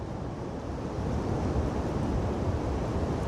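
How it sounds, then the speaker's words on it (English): Strong wind gusting over 75 km/h at a canal near Goole roars in a loud, continuous rush of broadband buffeting, swelling slightly midway with no voices. "Currently the wind is gusting at over 75 kilometers an hour."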